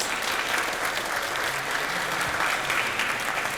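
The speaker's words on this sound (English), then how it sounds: "So a round of applause for our wonderful panelists." A conference audience applauds panelists after a discussion, a steady wash of clapping that stays even and full throughout.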